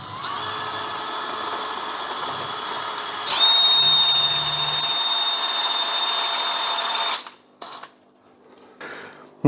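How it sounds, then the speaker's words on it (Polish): A power drill bores holes in a plexiglass sheet, giving a steady, close whine for about four seconds, then a few short, choppy bursts as it finishes. "udało się wywiercić otwory pod pleksę"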